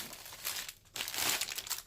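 Packaged envelopes crinkling and rustling as they are handled, with two bursts of close crackly plastic noise separated by a brief pause; no talking.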